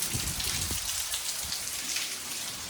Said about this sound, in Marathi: मस्त एकदम पाऊस पडते